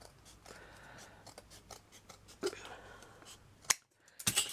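Scissors snip paper strips for a handmade miniature gypsy caravan, close and crisp, with a soft rustle of handling and then a few sharp cuts near the end.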